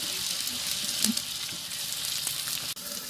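Onion and ginger-garlic paste frying in a big pot on a clay stove dug into the ground outdoors on a winter morning, making a continuous broad sizzle with light stirring knocks.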